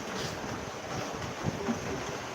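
A steady, soft wash of heavy rain in Titwala, heard from a balcony, hisses evenly throughout, with no voices and no distinct individual sounds standing out.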